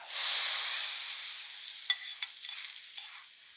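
A hot tempering of mustard seeds, curry leaves, dried red chillies and chilli powder poured into a taro and dried fish curry gives a sudden loud hissing sizzle that slowly fades, with a few faint pops and clicks.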